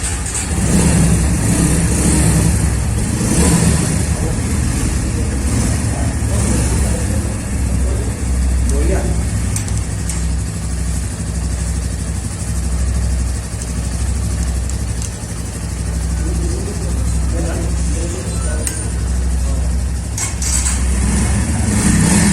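A new Bajaj Pulsar P150 motorcycle runs at a dealership launch in Majuli, its engine holding a steady idle with occasional revs under loud, continuous crowd noise and people talking.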